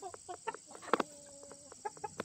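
Chickens cluck softly in short, irregular calls, with one sharper squawk partway through and a faint steady tone beneath.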